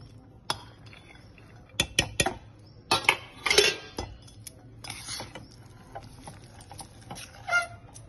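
Ivy gourd pickle (dondakaya avakaya) being mixed by hand in a dish, a run of close clinks and scrapes of a spoon against the bowl in uneven bursts, with quiet pauses between.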